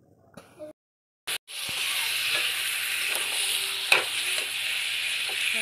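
Meat sizzles steadily in a hot pan after a few brief clattering knocks, a continuous close hiss with an occasional scrape of stirring, no talking.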